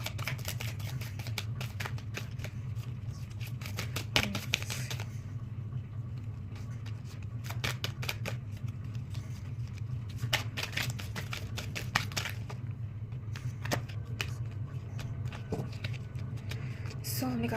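Tarot reading cards are shuffled by hand, making repeated crisp riffling and flicking bursts in irregular clusters over a low steady background hum.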